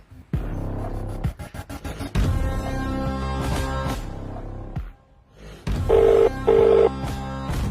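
An unanswered phone call rings out, with a repeating two-burst ringback tone near the end over a busy background of music and mixed noise.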